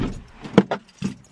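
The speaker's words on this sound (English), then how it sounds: "Car keys." Car keys jangle close by in a few quick metallic bursts, with faint handling noise between them and no talking.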